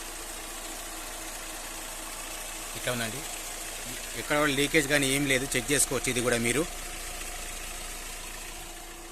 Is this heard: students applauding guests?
no